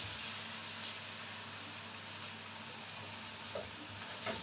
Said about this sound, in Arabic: نبدأ بقى نقلب كده